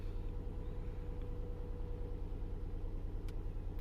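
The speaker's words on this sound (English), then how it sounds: "Gonna turn my car on." A car engine idles steadily after being started, a low even rumble with a regular pulsing throb, close and constant with faint brief ticks over it.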